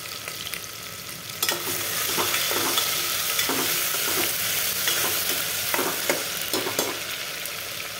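Ginger-garlic paste and cumin fry in a pan with a loud, steady hiss and sizzle, broken by close scraping stir strokes throughout.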